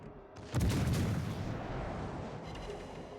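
Heavy naval guns boom out in World of Warships Legends, a loud low blast with a long rumbling tail fading over a few seconds.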